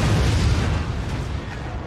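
A sniper shot strikes the enemy core in the Forts video game, giving a loud, rumbling explosion that stays heavy and dense through the whole short burst, with no voices.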